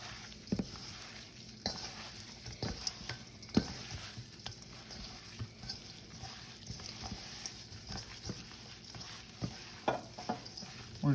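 Pork carnitas seasonings get stirred in olive oil inside an Instant Pot, with a soft sizzle running underneath and scattered scraping, clacking strokes of the spoon, fairly quiet and close, no talking.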